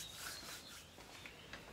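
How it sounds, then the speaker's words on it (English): Fine sawdust sprinkled into a glued crack in wood, a soft, faint rubbing hiss with light grainy brushes, close and quiet with no talk. "I'm gonna sprinkle a little bit of sawdust in there."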